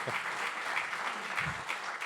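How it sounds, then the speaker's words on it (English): An audience claps for a few seconds in response to a question at a careers talk, a brief, moderately quiet patter of many hands with no voices over it. "I think we should clap it up for that."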